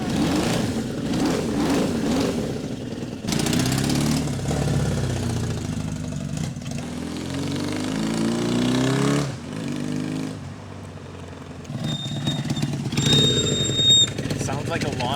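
A cheap Suzuki motorcycle runs with an exhaust leak, its loud, rough, lawnmower-like engine note idling and revving in bursts while people talk over it.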